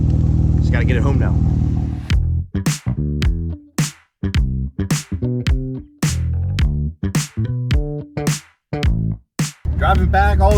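Porsche 997 911 Turbo engine on the drive back, a steady drone that breaks into a run of sharp, rhythmic bursts and gaps, like repeated revs or gear changes, heard close and loud with no speech over it.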